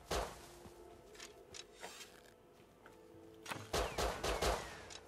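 Bursts of rapid gunfire in the survival game Rust, sharp cracks scattered sparsely at first, then a denser volley of shots near the end, fairly quiet overall.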